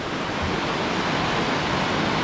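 The cold water of a stream at Tel Dan rushes in a loud, constant broadband hiss, close by and steady, with no voices over it.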